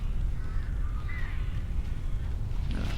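Crows caw from the sky in the video game Alan Wake, a few harsh calls rising over a steady, noisy game ambience.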